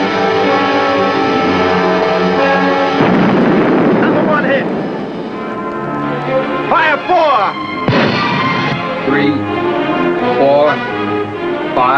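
Torpedo explosion as a ship is hit during a wartime submarine attack, heard as a sustained roaring, rumbling blast with broadband turbulence, accompanied by engine drone and voices talking over it.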